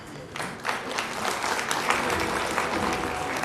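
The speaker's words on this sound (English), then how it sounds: "Please put your hands together and give him a round of applause." Audience applause at the 21st Sindhi Sammelan event in 2014, a hall full of clapping that swells after a quiet start and holds steady with dense overlapping claps.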